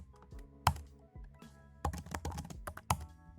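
Keys clatter on a computer keyboard as a Linux command is typed, a quick irregular run of close, crisp taps with a few sharper hits and no talking.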